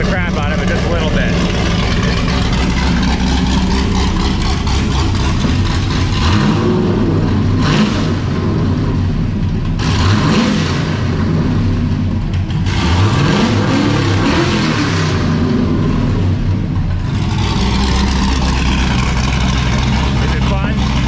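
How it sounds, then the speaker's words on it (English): A cold supercharged LSA V8 in a 1972 Monte Carlo with NASCAR-style boom tube exhausts rumbles loud and close. It gets several light blips of the throttle that swell and fall over the idle, and people talk over it. "The engine's still cold, so don't rev the crap out of it just a little bit"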